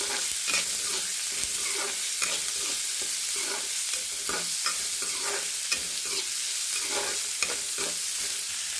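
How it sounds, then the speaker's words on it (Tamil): Onion and salt sautéing in a pan, with steady broadband sizzling and repeated scraping stir strokes throughout, close and fairly loud, no voices. "வெங்காயம் போட்டுக்கலாம் உப்பு கொஞ்சம் போட்டுக்கலாம் நல்லா வதக்கலாம்"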